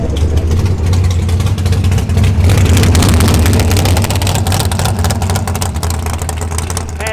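Loud, rumbling idle of a big engine car at a drag strip, a deep steady throb close by with a rough, lopey pulse throughout and no talking.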